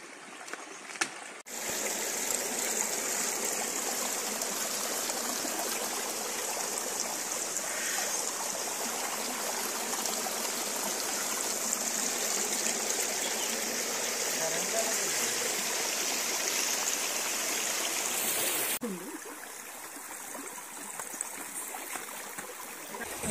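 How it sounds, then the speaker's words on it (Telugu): A rural stream flows steadily nearby with a continuous, even rushing and trickling wash that holds for most of the stretch before fading to quieter background. "వాటర్ సౌండ్ చాలా పీస్ ఆఫ్ మైండ్"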